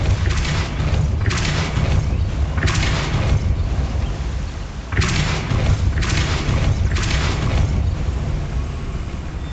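Repeated spell bursts from Hogwarts Legacy's Depulso force-push, each a broad whooshing boom lasting about a second, arriving in two clusters of three over a steady background rumble.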